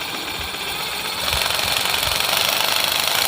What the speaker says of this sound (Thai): สังเกตว่าเลื่อยก็จะทำงานประมาณนี้นะครับ